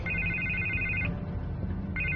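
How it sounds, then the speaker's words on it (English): A telephone rings in the Batman Telltale Series video game, giving an electronic trilling ring burst, a pause, then the start of another ring, clear over a low background hum. "I can't get the phone to stop ringing"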